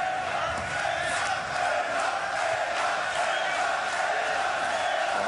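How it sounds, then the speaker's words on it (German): Boxing arena crowd in Mülheim an der Ruhr roars in a steady, dense wall of cheering and shouting, with scattered whoops rising out of the sustained noise. "Die Zuschauer in Mülheim an der Ruhr stärken ihm den Rücken."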